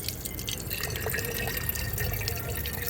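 Water running and dripping steadily while a container is filled for watering plants on a sunny rooftop, a continuous close splashing trickle with no talk.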